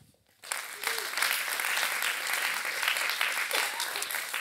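Warm audience applause for a panel member at a leadership event, starting abruptly after a brief quiet moment and continuing as a steady, even wash of clapping.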